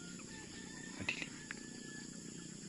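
At nightfall outdoors, crickets keep up a faint, continuous high buzz, broken midway by a couple of brief louder chirps or calls from nearby.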